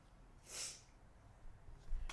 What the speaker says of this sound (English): Pardon any sniffles on my part.